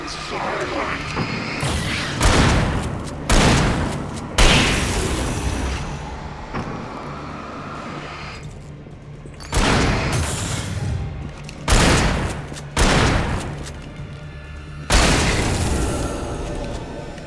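Heavy gunfire in the horror video game Alan Wake comes as loud, repeated booming bursts, several in a row with short gaps between them. A voice talks in places.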